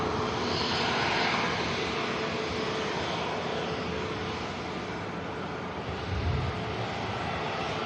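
A British Airways jet roars steadily at Manchester Airport on a rainy day, a broad, loud engine rumble sustained throughout with no speech.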